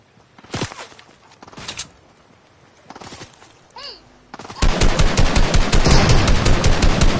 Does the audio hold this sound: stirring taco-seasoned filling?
no